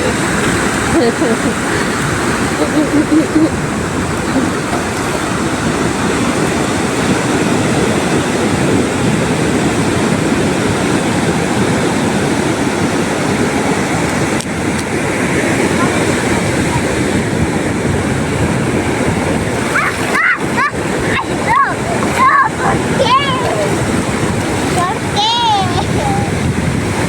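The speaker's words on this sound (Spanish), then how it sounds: "Las olas están bien fuertes." Strong waves crash and wash continuously on an empty beach north of Lima, a loud, steady broadband roar with wind buffeting the microphone throughout.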